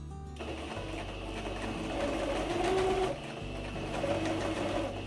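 A sewing machine stitches the waistband of a paper-bag skirt in a close, rapid, continuous mechanical whir, with a brief pause early on and then louder and softer stretches of stitching.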